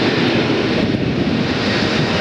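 Boeing 757 jet departing Atlanta airport, a loud, close, sustained engine roar filling the whole moment without pause.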